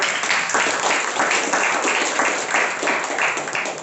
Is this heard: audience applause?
yes